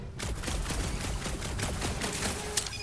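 Rapid bursts of gunfire crackle continuously as a creature is shot at in the Guardians of the Galaxy video game, a steady loud volley with sharp impacts and no talking.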